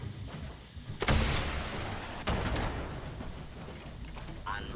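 Grenade and missile explosions in Fallout 76, a video game: a sharp blast followed by rumbling, then a second bang about a second later. Further dull thuds follow, with voices talking over the gameplay.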